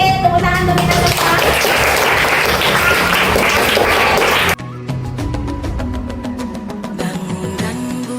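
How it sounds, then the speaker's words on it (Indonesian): Group of students in an Indonesian classroom clapping together, a dense burst of applause for about four and a half seconds that cuts off abruptly, followed by music with a rhythmic beat. "Oke, tepuk tangan untuk kita semua."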